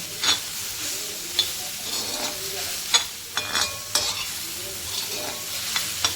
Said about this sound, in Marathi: मी सुद्धा भाजताना व्यवस्थित भाजून घ्यायचं